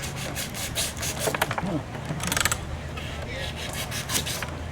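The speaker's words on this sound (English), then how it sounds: "now I'm just going to taper down the stalks at an angle" A knife tapers broom corn stalks at an angle during broom making. Steady rough scraping and rubbing with brief louder rasping strokes, close and continuous.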